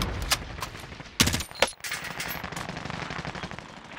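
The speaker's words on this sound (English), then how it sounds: "These people in there shooting at people over there" Gunfire in the Warzone video game: a short automatic burst, then a louder cluster of sharp cracks, trailing into quieter distant shots over a constant background rumble.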